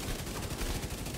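The Kingbreaker gun in the video game The Division 2 fires a rapid, fairly quiet burst of shots in quick succession.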